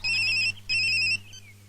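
An electronic phone ringtone plays two loud, even bursts with a short gap between them, followed by a fainter fading tone, with no voices.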